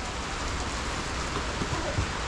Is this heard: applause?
no